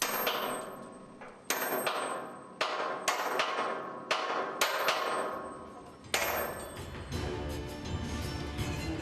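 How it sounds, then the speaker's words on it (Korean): A worker hammers split pins into the connection slots of a tower crane mast high above the ground. Sharp metallic strikes ring out about every half second to a second, each with a short ringing decay, and there is no talk. "마스트를 고정하기 위해 연결 홈에 분할핀을 끼우고 바로 망치질이 시작되는데요"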